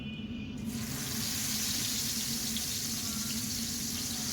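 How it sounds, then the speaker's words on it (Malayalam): Fish coated in chili powder, turmeric, salt and a little lime frying in a pan, a steady close sizzle and crackle that starts abruptly and holds evenly throughout without voices. "മാമ വാങ്ങിച്ചു തന്ന മീൻ പൊരിക്കുക."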